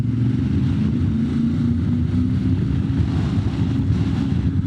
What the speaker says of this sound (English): My helmet is directly in the wind. Lots of noise, lots of buffeting.